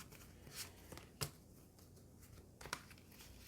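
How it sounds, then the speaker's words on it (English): Tarot cards are picked up and shuffled in short, faint bursts, with a few crisp riffling snaps separated by quiet gaps. "keep shuffling."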